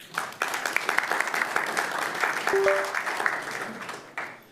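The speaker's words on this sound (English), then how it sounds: "please give him another round of applause." A room full of people at a city council meeting claps steadily for several seconds, dense and fairly close, fading out near the end.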